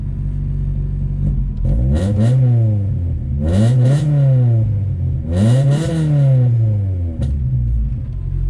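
A Honda CRX engine with a slight sputter rumbles at idle, then revs up and falls back in two strong swells, with roughness and clatter at the edges, loud and close, with no talking.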